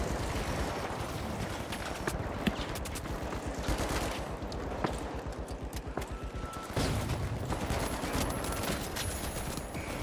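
Automated turrets in the shooter game The Finals firing rapid, sustained bursts at close range, a dense rattling stream of shots with brief shifts in intensity.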